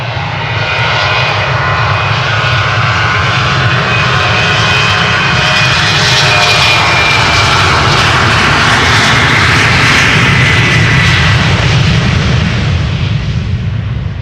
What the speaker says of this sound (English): Eastern Airways, Embraer 190, flying for KLM.